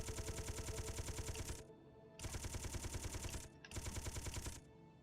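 Rapid automatic gunfire from the video game Space Engineers comes in three loud sustained bursts of a second or more each, with short pauses between them and no talk.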